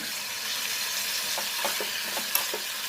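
Coriander and green chillies fry in a pan with a steady close sizzle, broken by a few soft stirring clicks and one sharp tap near the end.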